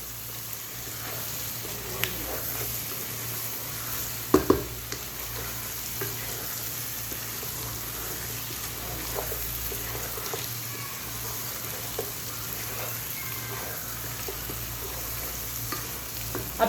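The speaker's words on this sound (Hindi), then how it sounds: "ट्वेंटी से 30 सेकंड अच्छे तरीके से मैं कुक करूंगी, ताकि मसालों की अच्छी सी खुशबू आ जाए" Whole spices and masalas frying and being stirred in a pan for restaurant-style chicken biryani, a steady close sizzle with occasional scraping stirs and a couple of sharper clinks, no talk.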